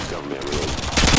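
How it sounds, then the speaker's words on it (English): A chain gun fires in Modern Warfare 2, a dense rapid burst of gunfire that swells louder toward the end, with a voice speaking over it. "The chain gun."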